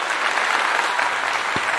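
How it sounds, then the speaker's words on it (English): Audience clapping for a panel after a discussion event, a close, loud, even burst of many hands applauding together, brief and continuous. "I want to give you all a clap again."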